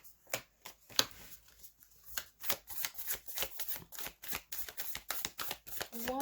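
Tarot cards being shuffled by hand during a reading, a quiet series of crisp riffling snaps and soft slaps at an uneven rhythm, close and otherwise alone.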